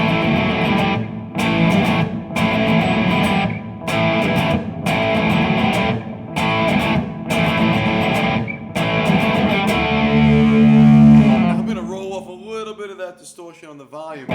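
Electric guitar with heavy distortion played through a SansAmp pedal, loud chopped chords separated by short gaps, ending in a sustained ringing note and fading feedback.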